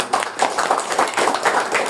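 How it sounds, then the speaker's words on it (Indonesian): Audience applause at a public prosecutor's office event in Kediri, a steady dense patter of many hands clapping throughout, moderately close and without clear talk on top. "Tepuk tangan."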